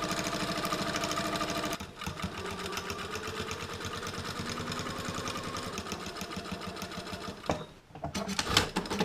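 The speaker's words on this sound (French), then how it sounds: "Et maintenant, je vais coudre tout le tour à 1 cm." A sewing machine stitches around a knitted vest seam at one centimetre, a loud fast steady rattle that runs continuously, pausing briefly twice before resuming.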